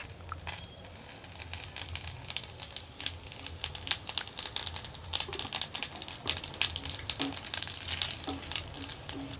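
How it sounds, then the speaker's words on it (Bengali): Cumin seeds frying in hot oil, a close crackling sizzle with rapid sharp pops scattered throughout, steady and moderately loud with no talk. "তেল গরম হয়ে গেছে আর এখন দিয়ে দেবো যে জিরা"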